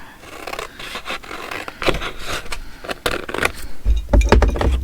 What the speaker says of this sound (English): And we'll cut out a piece of paper.